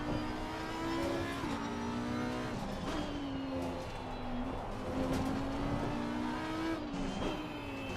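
A GT race car in Assetto Corsa Competizione revs hard under power oversteer, its engine note climbing and dipping through gear changes, with brief tyre squeal over a loud, continuous drone.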